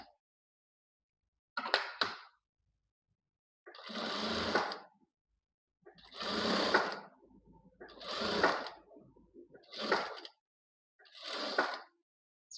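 A sewing machine stitches a blouse hem in six short bursts of rapid whirring, separated by brief silent pauses, close and fairly quiet.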